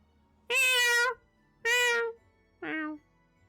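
A streamer's voice imitates a cat's meow three times in a row, close and loud: two long drawn-out meows followed by a shorter, lighter one, with silence between.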